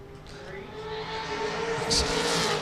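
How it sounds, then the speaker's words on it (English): Mitsubishi Evo 7 time attack race car at Road Atlanta, its engine building in a rising rev with a brief louder burst near the end, heard amid background noise. "Jacob Tanaka, that car sounds all sorts of mean."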